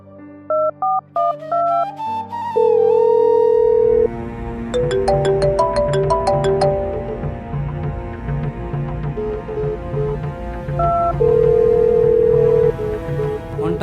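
Electronic phone tones: a few quick keypad beeps, then a steady ringback tone that repeats, set over a busy music-like background.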